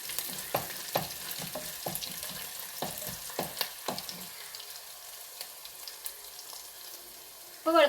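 Garlic sizzling in oil in a pan while making potato masala for poori, with stirring scrapes early on and then a steady frying hiss, close and moderately loud.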